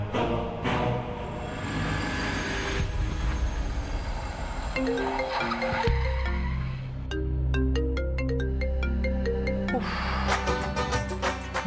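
A mobile phone ringtone announces an incoming call, a bright repeating electronic melody that rings out clearly for several seconds over a faint background hum in an indoor scene.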